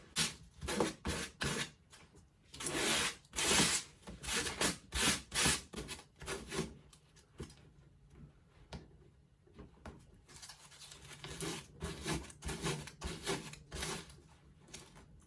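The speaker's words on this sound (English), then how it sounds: "I'm gonna sand this down to get all this stuff off" Sandpaper rubs paint off the collar of a denim jacket in repeated bursts of scratchy strokes, close by, with quieter, fainter rubbing after a pause.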